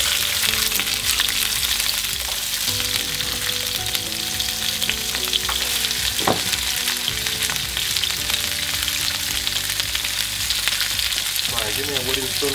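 Canned beans heat in a pan on low, giving a steady, dense sizzle that holds evenly throughout with no voices.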